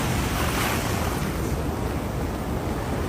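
Heavy surf pounds a California shore during high tides and large breaking waves, a continuous loud roar with wind buffeting the microphone.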